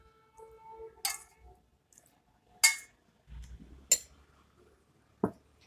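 A spoon clinks against a bowl while a triphala, amla and tea powder hair mask is mixed, a few sharp separate taps with quiet stirring between them.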